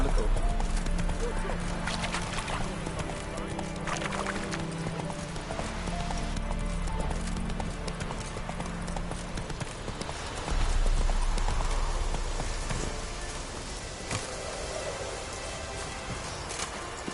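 Roach, a horse in The Witcher 3 on PS4, trots with rhythmic clip-clop hoofbeats throughout, joined by a brief neigh, in-game rustle and ambient sound, with faint background speech at times.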